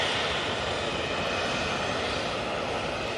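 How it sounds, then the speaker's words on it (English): A TUI airliner on its takeoff roll at Manchester Airport gives off a steady, broad jet roar heard from a distance, holding constant throughout with no voices. "TUI is off to Malaga. Using a fair bit of runway there."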